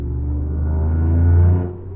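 A Toyota GR Yaris fitted with a custom exhaust gives a deep, steady rumble close up, swelling slightly in the middle of the stretch before easing back, with no talking.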